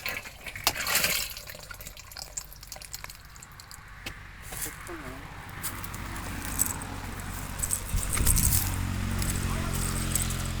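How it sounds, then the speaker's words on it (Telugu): Jaggery is stirred into water, with sloshing, trickling and dripping liquid sounds and occasional clinks, faint to moderate and close by, while voices are heard in the background. "1 కిలో బెల్లం నీళ్ళలో కలుపుతున్నాము"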